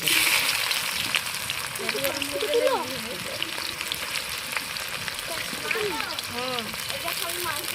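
Onions dropped into hot oil already tempered with garlic and ginger for a village-style chicken curry give a steady close sizzle and crackle, with a voice talking over it.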